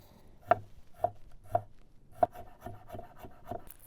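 A knife chops green onion, garlic and ginger finely on a cutting board for walleye gyozas, about eight sharp, close knocks in an uneven rhythm, alone without talking.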